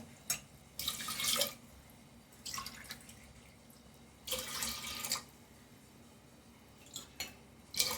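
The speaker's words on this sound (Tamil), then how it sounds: "இதில் 2 கிளாஸ் வாட்டர் சேர்த்துக்கோங்க." Water poured from a glass into washed chana dal in a pot while cooking bottle gourd kootu, heard as several separate splashing, running bursts with quiet gaps between them.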